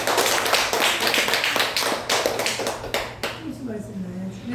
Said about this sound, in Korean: 우리 박수 한번 해드리지